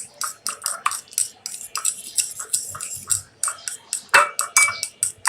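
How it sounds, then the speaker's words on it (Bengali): A fork beats homemade yogurt in a bowl for a shahi lassi, producing rapid, regular metallic clinks and scrapes close up, with a few sharper knocks against the bowl's side. "কাঁটা চামচ দিয়ে ফেটে নিব একটু।"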